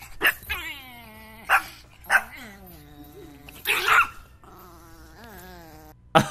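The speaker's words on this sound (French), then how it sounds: "Le grognement du petit chien là avec les petits poils qui ressemblent à Simba là" A small, fluffy-coated dog growls and yaps in short bursts, whining and rising tonal yelps between sharp barks, close and fairly loud with brief pauses.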